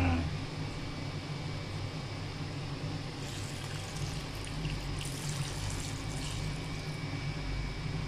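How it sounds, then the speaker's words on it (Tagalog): Coconut milk poured from a container into a mixed batch of ingredients, a soft, continuous liquid pour with a faint steady trickle and low background hum. "Ayan na po ang ating gata. Salin natin dito sa ating pinaghalo-halong."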